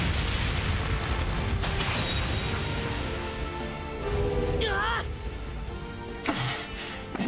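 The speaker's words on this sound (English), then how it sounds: "They made an impromptu flashbang." A flashbang goes off in the video game Trails beyond the Horizon, a loud, dense, booming burst layered over a continuous roar of game sound and music, with brief swooping effects after it.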